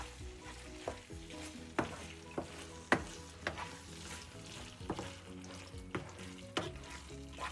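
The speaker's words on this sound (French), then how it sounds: "je vais directement mettre mes pâtes dans ma sauce. Voilà. Et on mélange" Pasta is stirred into a tuna sauce in a hot pan, with a continuous close sizzle and repeated scraping and clacking strokes of the spoon against the pan at an uneven rhythm, and no talk.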